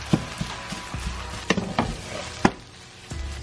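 Fried rice being stirred and tossed in a hot pan, with a steady sizzle and irregular scraping and clinking of the utensil against the pan, several sharper knocks spaced across the mix, close by and with no talking.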